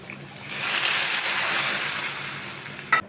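Hot tempering of onion and curry leaves poured into a Tamil country chicken thin curry, a broad sizzling hiss that swells within the first second, holds, then eases, closing with a brief sharp clink.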